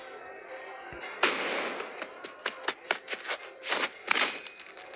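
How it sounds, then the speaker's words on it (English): A sharp gunshot in a video game cracks out near and loud, followed by a rapid run of further bursts and metallic impacts over a few seconds. "A gunshot rings out."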